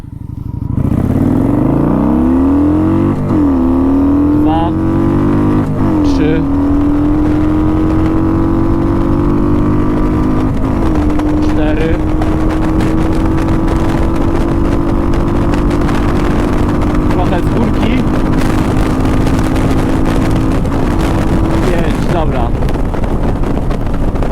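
A Kawasaki Vulcan 900 cruiser motorcycle engine revs hard and climbs in pitch, dropping briefly at each gear change as it accelerates, loud and close with heavy wind buffeting.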